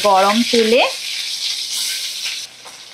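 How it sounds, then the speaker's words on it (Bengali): Small fasa fish salted and coated in turmeric are dropped one by one into hot oil in a kadai, setting off a loud hiss and crackle of frying that starts abruptly and then settles into a steady sizzle. "গরম তেলের মধ্যে ফ্যাসা মাছগুলো আমি দিয়ে দিলাম"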